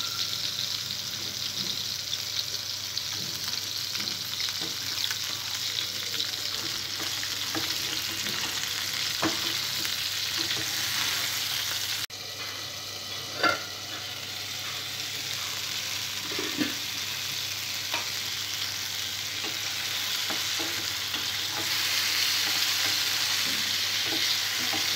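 Green chillies fry with softened tomatoes and onions for a roti pachadi, giving a continuous moderate sizzle with occasional stirring knocks and scrapes throughout, no voices present.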